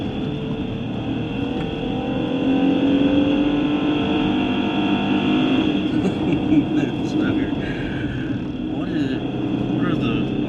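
Jeep Gladiator engine droning under load on packed sand trails at Little Sahara State Park, pitch climbing steadily through the revs with a shift partway through, loud and continuous inside the cab while people talk over it.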